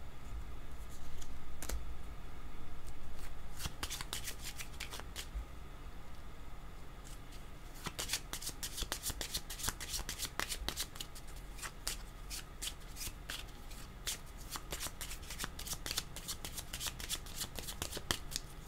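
Tarot cards are shuffled close-up for a reading, a crisp, continuous run of riffling slaps and flutters with a quieter patch before denser bursts, no talk.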